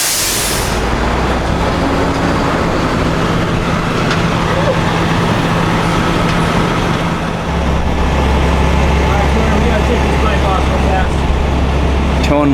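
A heavy tow truck engine rumbles as it backs up to a broken-down RV at an I-5 rest area, a loud, steady low drone with traffic noise around it and a voice talking over it.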